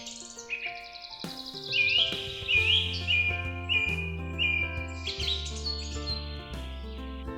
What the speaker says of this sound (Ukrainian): Давайте послухаємо, як весело вони співають.